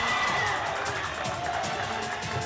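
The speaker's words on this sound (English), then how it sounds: "The crowd thinks it's over" A volleyball crowd in a college gym cheers after a game-saving dig, a steady dense roar of voices and shouts that holds loud throughout.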